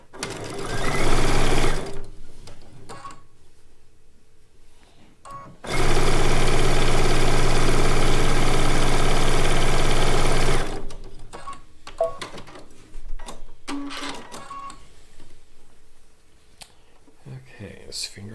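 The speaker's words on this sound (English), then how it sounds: "we're going to sew it onto the quilt" A sewing machine stitches quilt top units in bursts, with a brief run early, then a long steady whir of several seconds, then shorter stop-start runs, close by, while a person talks quietly in between.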